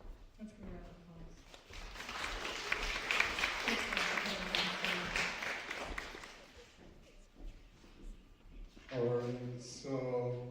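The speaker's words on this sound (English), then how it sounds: "Let's give a round of applause." A Sunday service audience claps in a burst of applause lasting several seconds, moderately loud and spread across the room, with speech before and after it.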